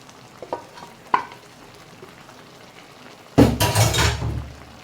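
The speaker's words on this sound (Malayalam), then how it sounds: "ഇനി നമ്മൾ വേവിച്ച് വെച്ചിരിക്കുന്നത് ഇതിലോട്ട് ചേർക്കുകയാണ്." Cooked vegetables for koottukari are tipped into a hot pan and stirred. A couple of faint knocks come first, then a sudden loud burst of sizzling and scraping that fills the last second and a half.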